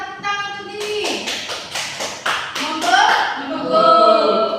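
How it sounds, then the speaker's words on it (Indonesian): Pupils in a classroom clap their hands in a short burst of roughly eight sharp, rhythmic claps, close and fairly loud, with voices calling out over and after them. "Tepuk tangan untuk ini."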